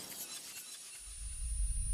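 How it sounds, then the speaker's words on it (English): Window glass shatters after a kicked football hits it: a bright, hissing spray of breaking glass fills the first second, then gives way to a growing low rumble. "Mike heard a loud crash as the ball smashed through the neighbor's window, sending glass flying in a shower of sparkling pieces."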